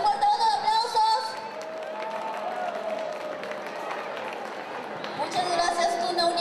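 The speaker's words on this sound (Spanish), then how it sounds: "un fuerte voto de aplausos" An audience applauds after a University Tuna performance at a cultural night, with clapping and crowd noise heard under a speaker's voice.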